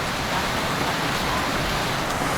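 Heavy rain pours steadily while a rider waits beside a parked motorbike, forming a dense, continuous hiss with no breaks or voices.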